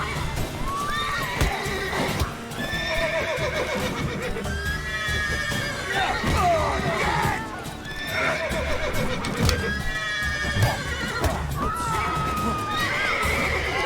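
Horses in The Witcher 3 neigh and whinny again and again over clip-clopping hooves and busy game sounds, with a player talking now and then.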